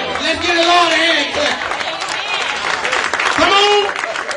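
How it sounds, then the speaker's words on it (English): A church congregation claps and cheers during a sermon in Humble, Texas, with voices and crowd babble mixed through the steady, loud clapping. "Let's give the Lord a hand"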